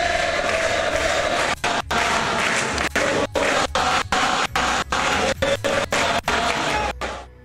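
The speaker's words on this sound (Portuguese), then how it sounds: "Lula foi recepcionado com mais aplausos." Large crowd applauding and cheering at a presidential inauguration ceremony for Lula, a steady dense roar of claps and voices with repeated sharp cutouts breaking the sound.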